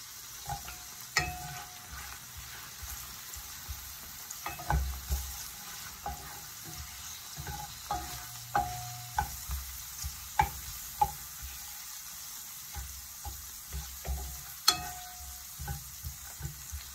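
Garlic and onion sautéing in a pan for string beans with minced beef, a soft steady sizzle with scattered sharp clicks and scrapes of stirring, fairly quiet and close, with no voices.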